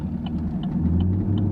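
Idling 6th gen Chevrolet Camaro engine with an MBRP axle-back exhaust, a steady low rumble heard up close with faint regular ticking on top.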